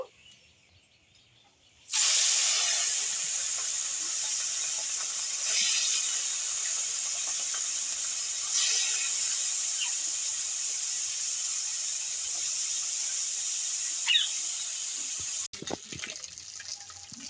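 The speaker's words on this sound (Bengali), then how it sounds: "এই তেলেই আমি এবার চুনো মাছটা ভেজে নেব।" Small chuno fish dropped into hot mustard oil in a kadai, left after bitter gourd was fried, burst into a loud, steady hissing sizzle that starts abruptly and holds, with a few crackles and pops.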